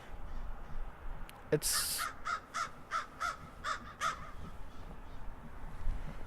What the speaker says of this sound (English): even the crows are louder than me.